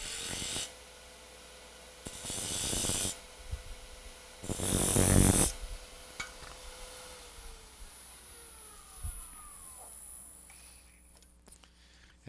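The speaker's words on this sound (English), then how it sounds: "I'm going to decorate the bottom a little bit. Again, I'm just going to put some grooves in it." A carving tool cuts grooves into the bottom of a five-sided wooden tea light holder in three loud rasping bursts of about a second each, separated by quieter gaps, then lighter scraping and faint handling noises.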